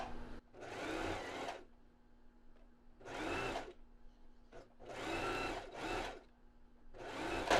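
A sewing machine stitches along a fabric edge in several bursts of a few seconds each, a close, fast whirring hum separated by quiet pauses.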